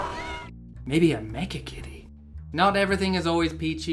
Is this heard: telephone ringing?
no